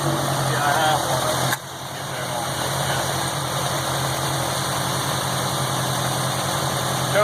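A Volkswagen Golf GTI Mk2 engine fitted with motorcycle carburetors idles steadily with the choke on, a low, even rumble and faint vibration, running alone without any pauses or revving.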